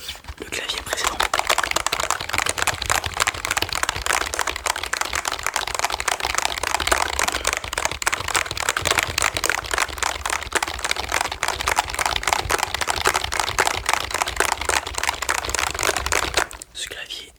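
Computer keyboard in a multimedia-shop sales roleplay, keys tapped and clicked in a dense, steady stream of close-up clatter for the whole stretch. Whispered talk seems to run quietly underneath.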